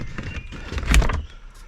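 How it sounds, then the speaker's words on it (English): A door opening on a house next to a newly built porch roof framed with 2x4s, heard as a short mechanical clunk and rattle peaking near the middle, close and fairly loud, without talk. "Door is opening fine."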